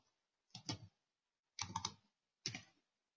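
A computer keyboard clatters in three short bursts of quick keystrokes with pauses between them, close and crisp, no talk.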